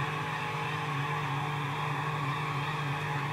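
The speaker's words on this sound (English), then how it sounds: "Here's a burnout finish." A Monster Energy car in Midnight Club LA performs a burnout, producing a continuous, loud engine roar with tire screech that holds steady throughout.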